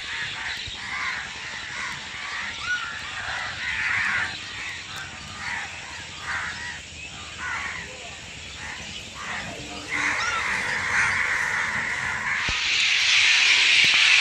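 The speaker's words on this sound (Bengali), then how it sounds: "একটু পাখির আওয়াজই শোনো" Crows caw repeatedly in a steady series on a green island in the countryside, with a soft hiss that grows louder toward the end.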